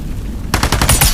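A single rifle shot in the VR shooter Into the Radius 2 cracks out sharply after a quiet moment, followed by a short rattling echo and tail, loud and close.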